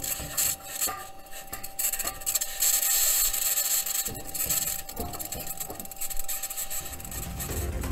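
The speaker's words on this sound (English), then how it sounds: "Perseverance has captured an unidentified, high-pitched scratching sound" High-pitched scratching captured by the Mars rover Perseverance, a dense, continuous rasping and grinding hiss that swells and fades across the recording, with no voices.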